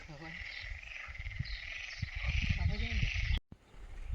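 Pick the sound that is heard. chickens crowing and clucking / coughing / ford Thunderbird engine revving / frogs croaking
frogs croaking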